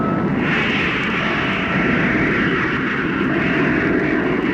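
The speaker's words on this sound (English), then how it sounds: "Atomic motor. Fire." An atomic rocket motor firing as a radio drama sound effect: a loud, steady roaring rumble with a broad hiss, sustained evenly throughout with no voices.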